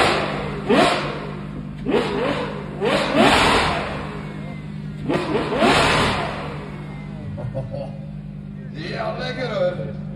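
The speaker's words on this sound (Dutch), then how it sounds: "Maar zo klinkt een echte 12 cilinder." A Ferrari 812 with a Novitec straight-piped V12 blips its throttle in about five sharp, loud revs, each rising then falling back to a rumbling idle. The car is close, and a voice can be heard faintly between the revs.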